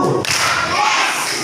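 Children in a Quran study class clap in unison on command, a single sharp burst rising over a room of young voices, followed by a lingering murmur and rustle.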